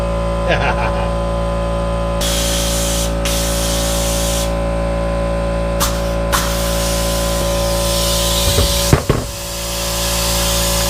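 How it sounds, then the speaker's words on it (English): An air compressor in a woodworking shop under construction hisses loudly and continuously over a steady low motor drone, with several bursts of stronger spraying air partway through. "Air compressor."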